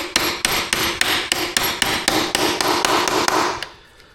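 A hammer taps a 10mm socket into a supported wheel, about twelve sharp metallic strikes in a steady, even rhythm, close and loud, with no talking.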